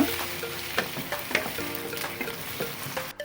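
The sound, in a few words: tomatoes and green chillies stirred into frying onions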